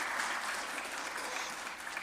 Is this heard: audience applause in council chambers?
yes